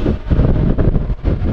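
Loud, gusty wind rumbles across the microphone at the Anglesey racing circuit, heard alone in a short burst of low buffeting.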